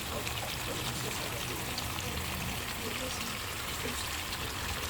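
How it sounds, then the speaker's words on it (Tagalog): Thick coconut cream pours into a cooking pot of squash and crab, a soft, steady trickling splash that runs throughout while someone talks nearby. "ilalagay ko na yung ating kakang gata. Ito ang ating kakang gata."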